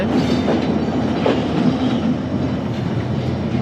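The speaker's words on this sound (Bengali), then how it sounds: "স্টেশন ছেড়ে ট্রেনটা এখন ছুটে চলছে" A passenger train from Khulna runs out of Jessore railway station toward Dhaka, its wheels keeping up a steady rumbling clatter with faint rhythmic clicks, heard from inside the carriage and without talk.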